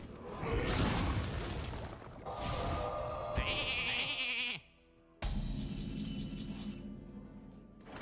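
Sheep bleat from a polymorph spell in the Hearthstone video game, heard among layered game effects with whooshes and a brief shattering chime, followed by a short silence and more bright game sounds.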